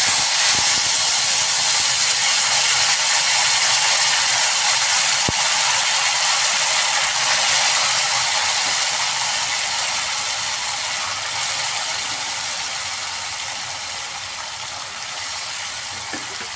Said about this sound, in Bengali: এবার আমি এর মধ্যে ডালটা ফোড়ন দিয়ে দিচ্ছি।